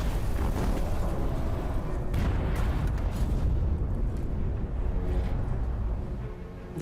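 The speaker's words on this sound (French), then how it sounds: "la torpille d'Encke touche sa cible." A torpedo hits a warship and detonates, a heavy rumbling blast with crackling bursts that rolls on for several seconds before slowly fading.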